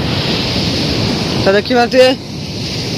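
Sea waves washing onto the beach at Thiruvanmayur, a steady broadband roar of surf with wind noise, briefly overlaid by a few spoken words in the middle.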